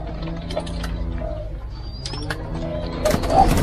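Captive spotted doves being bred in cages give soft, low repeated coos that overlap at moderate distance, with faint chirps and a steady background hiss of ambient noise.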